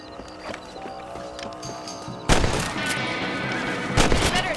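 Rifle shots aimed at rabbits in the Red Dead Redemption video game: two sharp, loud reports ring out over a quiet ambient game soundscape, with a possible horse moving nearby.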